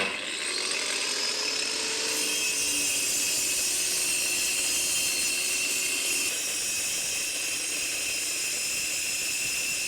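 A slightly used metal cutting disc slices through steel angle iron for garden railway steelwork, giving a loud, continuous high-pitched grinding whine and hiss with a slight pitch shift partway through.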